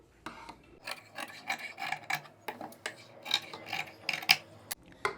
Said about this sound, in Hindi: अब हम इसको कट करेंगे। मार्जिन छोड़ के कट करना है।